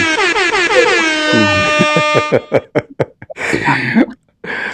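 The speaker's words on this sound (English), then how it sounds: "Let's give her a nice little DJ air horn." A loud, rapid burst of stuttering DJ air horn sound effect blasts that settles into a sustained blare, then a series of short horn stabs, followed by laughter.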